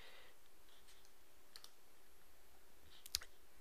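Quiet, sparse clicks from a computer keyboard and mouse, a few soft taps followed by one sharper, louder key press near the end, close and isolated against faint room hiss.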